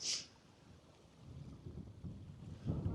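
Strong wind gusts rumble and buffet the microphone outdoors at a camping stove, building toward the end, with no voices.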